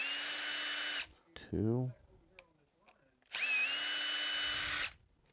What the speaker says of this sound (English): Alright, we'll remove three screws.